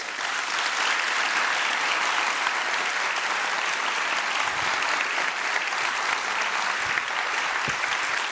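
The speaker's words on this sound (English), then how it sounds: "like a big round of applause for our guest." A large audience at a university lecture event gives a guest speaker a sustained, even roar of applause, thick and steady throughout.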